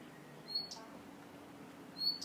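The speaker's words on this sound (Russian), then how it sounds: "Птички поют." Small birds sing in a forest among mountains, a few short, high chirps coming from a distance over quiet outdoor background noise.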